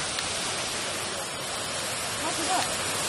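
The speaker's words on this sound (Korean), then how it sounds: "물소리가 점점 더 커지면서 연기도 더욱더 높게 피어난다." A geyser in Hokkaido, Japan, gives a steady, loud rushing hiss of steam and water, a broad, even roar that swells slightly toward the end.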